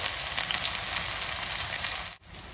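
Finely chopped onion fries in hot oil for a meatball curry, giving a loud, dense, steady sizzle throughout with a brief dip near the end.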